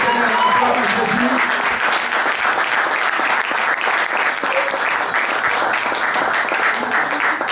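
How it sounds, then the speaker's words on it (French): Church congregation applauding loudly at a Bethanie church service, a dense, continuous wash of clapping hands that fills the whole stretch, with voices mixed into the crowd. "nous acclamons très fort pour le roi"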